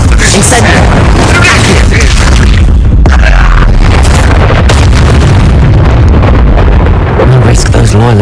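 A fire spell bursting in the magic video game Hogwarts Legacy, a dense, roaring blast that stays loud throughout, with booming low rumble and crackling bursts.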